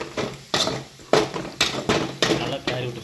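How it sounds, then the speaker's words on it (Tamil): Potato fry being stirred in an oiled pan, with repeated scraping clatters of a utensil against the pan at an uneven rhythm, fairly close and loud, with faint background sounds between strokes. "நல்லா கிளறி விட்டுக்கலாம்."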